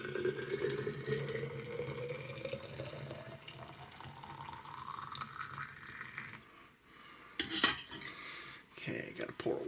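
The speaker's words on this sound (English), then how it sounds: "we're going to pour this into the pot" Boiling water pours in a steady stream into a pot, the pitch climbing as the vessel fills. It is faint and near, and a brief clatter of metal follows near the end.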